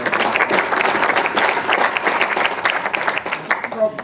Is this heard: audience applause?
yes